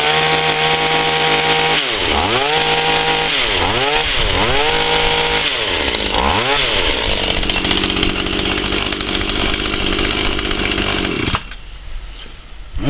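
A restored Stihl petrol hedge cutter runs loud and close, with repeated revving surges early on settling into a steady high buzz before it cuts out abruptly near the end.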